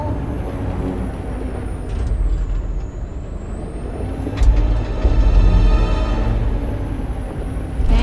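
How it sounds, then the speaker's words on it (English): A heavy truck engine in the game Detroit: Become Human rumbles steadily and loudly, swelling as the throttle opens, with a sharp hiss of air brakes partway through. "Ram the store with this truck."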